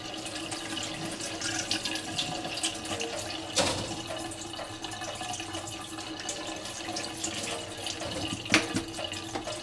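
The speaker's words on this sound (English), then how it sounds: "Wash your carrots." Carrots washed under a running kitchen tap: a steady, close rush of water splashing into a sink throughout, with occasional louder splashes and clunks as the vegetables are handled.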